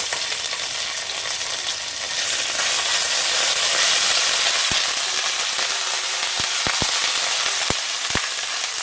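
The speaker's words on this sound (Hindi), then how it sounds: "हरी मिर्च डालेंगे, इसको भून लेंगे। अदरक पेस्ट डाल देंगे।" Green chilies and ginger paste sizzle steadily in hot oil for a veg biryani, a dense continuous frying hiss with a few sharp pops and crackles near the end, no talking.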